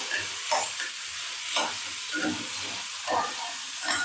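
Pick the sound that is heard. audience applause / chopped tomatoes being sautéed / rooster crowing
chopped tomatoes being sautéed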